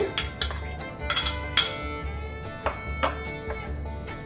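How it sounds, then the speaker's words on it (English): Shredded raw papaya for a salad is dropped into a bowl, bringing a series of light clinks and taps of utensil against dish, close and scattered, with no talking. "I've shredded the raw papaya. I'm going to put it in the bowl."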